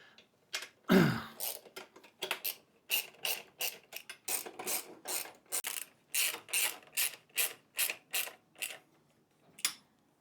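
A ratchet clicks in quick, repeated bursts while fittings on a bike's bar are tightened bit by bit, close and crisp with short pauses between strokes and a brief clunk near the start.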